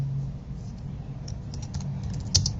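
Quick, fairly soft keystrokes as a Facebook comment is typed on a computer keyboard, an uneven run of light clicks ending in one sharper tap.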